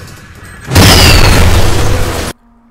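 A bomb blast in the stealth video game Splinter Cell Chaos Theory erupts suddenly as one loud, roaring explosion. It rumbles for about a second and a half, then cuts off abruptly to near silence.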